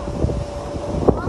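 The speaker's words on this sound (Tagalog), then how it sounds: "Hindi naman kami nainip kasi ang presko at sobrang lakas ng hangin." Strong, gusty wind blusters across an open outdoor spot at Lyceum of the Philippines University in Cavite, a steady rough roar buffeting the microphone with one brief louder gust near the end.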